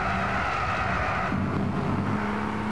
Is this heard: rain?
no